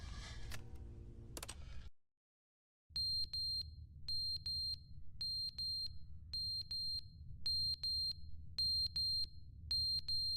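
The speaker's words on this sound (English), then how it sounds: "Fire alarm's running out of battery" A smoke alarm with a low battery chirps in short high paired beeps, repeating at a steady interval through a quiet room after a brief burst of other sound.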